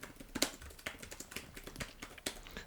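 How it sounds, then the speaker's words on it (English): Quiet, irregular clicking of fingers typing on a computer keyboard, with uneven bursts of keystrokes and brief pauses between them. "as I am typing this out"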